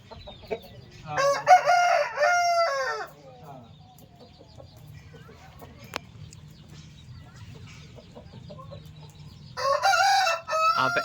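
Roosters crowing in a poultry yard among hens and chicks, with two loud close crowing bouts at the start and end, a single sharp knock in between, and a low background hum.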